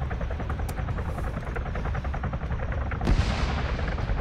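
Gunfire in the military shooter ArmA 3, a rapid stream of shots over a low helicopter-like rumble, with a louder burst about three quarters of the way through.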